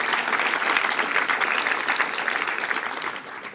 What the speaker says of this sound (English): Give the president a big round of applause.